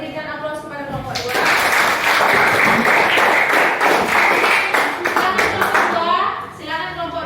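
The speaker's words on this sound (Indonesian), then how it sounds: "berikan aplaus kepada kelompok 2" A school geography class applauds a student group, with steady clapping from many hands lasting about five seconds, framed by a teacher's speech before and after.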